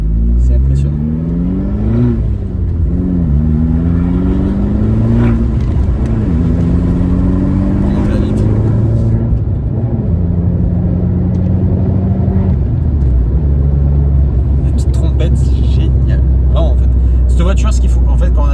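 An Abarth 595 Competizione's 180 hp engine revs repeatedly, its pitch rising and falling through several loud pulls, then settles into a deep steady rumble; the sound stays close and dominant throughout.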